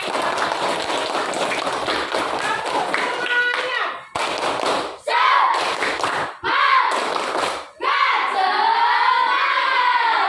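Classroom applause after a coding lesson, with a burst of clapping and chatter at first, then broken stretches of claps, thumps and children's voices before talk takes over.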